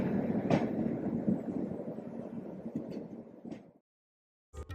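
Ahmedabad Rajdhani passenger train rolling out from Delhi Cantt, a steady broadband rumble with faint knocks that cuts off abruptly near the end, then resumes briefly.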